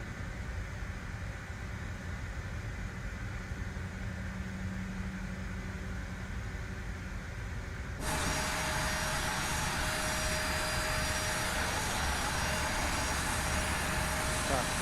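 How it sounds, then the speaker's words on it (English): An Air Canada Jazz airliner's auxiliary power unit spools up in a steady rumble that jumps abruptly into a louder, fuller whine with a sustained tone, heard from inside the aircraft. "APU is starting up."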